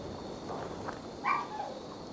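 A dog in Assassin's Creed Valhalla lets out a single brief bark, faint and somewhat distant, over a low steady game ambience.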